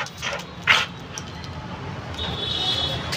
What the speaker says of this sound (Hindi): रॉटविलर फीमेल, भौंक के जाएगी, भौंक के जाएगी